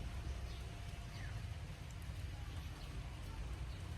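Steady rain hisses continuously at a moderate level, a dense even wash of patter with no clear breaks.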